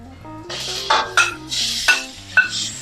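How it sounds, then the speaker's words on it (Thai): Minced pork is stir-fried in a pan for Thai basil pork, with a utensil scraping and clinking against the metal in repeated strokes over a low background hiss, close and fairly loud. "ใส่ หมูสับลงไปผัดต่อเลยค่ะ"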